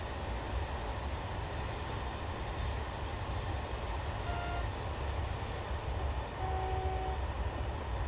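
An HLE 11 locomotive runs from Essen to Rotterdam in Train Simulator Classic with a steady rumbling drive, while brief faint horn tones sound twice near the end, half-buried in the running noise.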